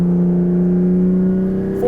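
A Ferrari 365 GTC/4 engine drones in third gear at about 3,500 rpm, a loud steady low tone with a rhythmic pulsing beat, close and alone for a brief moment.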